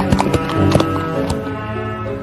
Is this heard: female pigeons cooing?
no